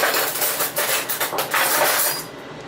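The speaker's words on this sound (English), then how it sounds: "last butter stick and we're going to slice it by the tablespoons." A knife slices a stick of butter into tablespoon portions, with bright metallic clinks and scraping of the blade against a dish, close and fairly loud, with no one speaking.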